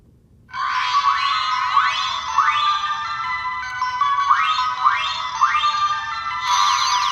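A continuous, shimmering electronic toy jingle from a Proplica Sailor Chibi Moon Prism Heart Compact transformation effect, with repeated upward swooping chimes, steady and loud from start to finish.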